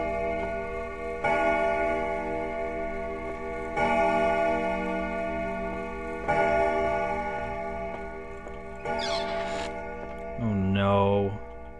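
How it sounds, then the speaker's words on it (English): A loud clock in the horror game Emily Wants to Play ticks in slow, evenly spaced heavy strokes with a ringing metallic tone, close and dominant, followed near the end by a brief sharp noise. "Holy shit, that clock's so loud"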